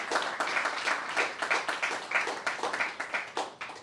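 Audience applause at a film festival programme launch comes through as uneven, pulsing clapping from a modest crowd, continuing for a few seconds.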